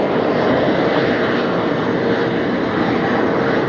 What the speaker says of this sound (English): I think this is the first Dreamliner that American got.